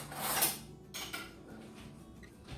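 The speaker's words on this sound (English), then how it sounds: "Let me get a spoon real quick so I get all of this." A spoon is pulled from a cluster of cutlery in a kitchen, with a short close jangle of metal at the start and then a softer clink, followed by quiet handling noise, with no talking.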